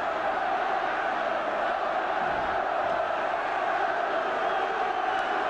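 Football crowd at the Roker end during Sunderland v Spurs in the 1977-78 season: a constant roaring, chanting mass of distant voices with no breaks, a dense wall of stadium noise.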